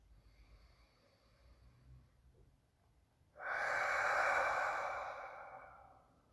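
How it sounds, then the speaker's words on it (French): A single deep breath taken during a guided meditation, soft and close, a faint inhale followed by a longer, louder airy exhale. "Tu peux prendre une respiration profonde."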